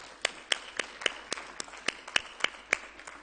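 A few people clap at a plenary session, sparse and distinct hand claps spaced irregularly in a quiet room, with no voices over them.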